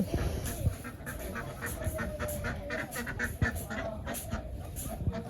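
Ducks quack repeatedly in short bursts among outdoor background noise, several calls overlapping at close to moderate distance.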